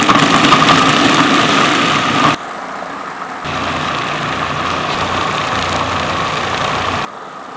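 A food processor grinds fish cake paste made with egg white, a loud close motor whir that runs hard, drops in pitch and load, then surges again before easing off near the end.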